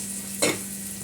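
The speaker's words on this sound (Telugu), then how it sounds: "చేపలు ఫ్రై చేస్తుంది" Fish sizzles in a pan of hot oil, giving a steady frying hiss close by. Partway through there is one brief stir or scrape, with no voices.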